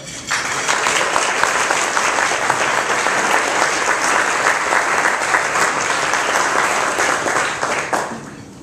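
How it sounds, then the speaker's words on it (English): Audience at an awards ceremony breaks into sustained applause, a dense wash of many hands clapping evenly for several seconds before fading out. "Would you please give her a round of applause?"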